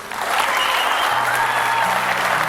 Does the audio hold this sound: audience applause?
yes